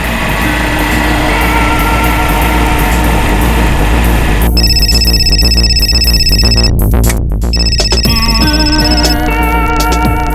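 A telephone rings in the middle of the night, a loud electronic ringing in repeated bursts over a steady low background hum.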